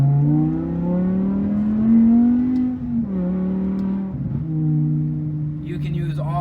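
A 2007 BMW M6 V10 engine revs high and strong past 8,000 rpm, pitch climbing and dropping through several gear changes, loud and close throughout.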